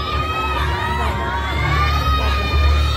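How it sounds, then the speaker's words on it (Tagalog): Excited fans shout and scream together in a theater crowd, a dense, loud, steady wall of cheering voices with high-pitched squeals rising above it throughout. "Okay, fans, settle down. Enough of the sigawan, please."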